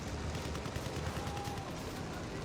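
Battlefield 1 gunfire in a chaotic World War I multiplayer firefight, a steady dense wash of shots and battle noise for the whole stretch with no clear single reports standing out.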